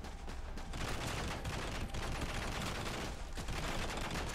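Heavy, continuous gunfire from a firefight in the video game Robert Ludlum's The Bourne Conspiracy, a dense, loud barrage of overlapping shots with no pauses.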